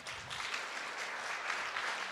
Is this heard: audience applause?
yes